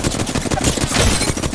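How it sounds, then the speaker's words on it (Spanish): Rapid automatic gunfire from a Flatline rifle in Apex Legends, a dense stream of close, loud shots filling the stretch with steady rhythm and no talk. "Ok, unos pequeños disparos, la ulti ahí."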